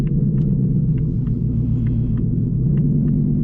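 A 900 hp Ford Mustang GT S650 idles high with a deep, steady rumble heard from inside the car, and faint small clicks come over the top.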